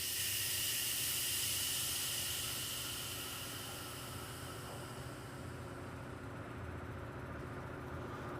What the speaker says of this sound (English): We're going to relieve the air pressure off the tool.